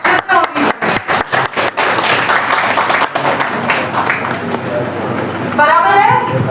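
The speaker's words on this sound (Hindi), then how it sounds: "ये विवेक के लिए तालियां होनी चाहिए" An audience at a Women's Day celebration breaks into applause for Vivek, opening with a few sharp claps that swell into steady clapping while a voice speaks over it.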